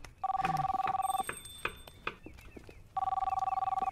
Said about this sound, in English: I don't know who's calling. Please. Just go to voicemail already.